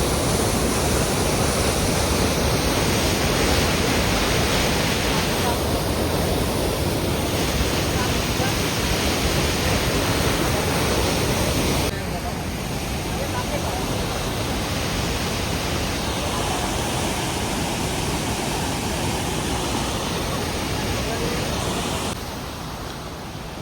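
Loud, steady rushing water from a waterfall roars without pause, a dense wash of sound that eases slightly partway through and again near the end.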